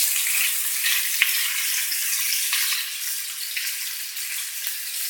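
Bacon and onions frying in a pan over about half heat, a dense, even sizzle that holds steady throughout with a few faint clicks, close and unbroken by speech.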